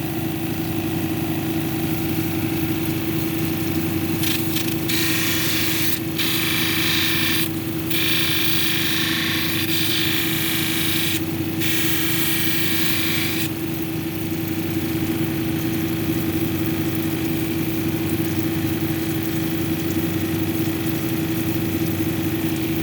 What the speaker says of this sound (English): let's take it over to 280, grind it smooth